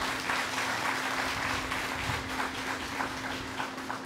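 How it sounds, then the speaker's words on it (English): A crowd at an outdoor housing distribution ceremony in Vieux Fort gives loud, continuous applause, dense clapping from many hands that stays steady throughout with a low hum underneath. "Let's give them another wonderful applause"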